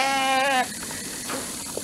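A male sheep in a farm pen lets out a single short, wavering bleat close by, followed by quiet ambient farm noise.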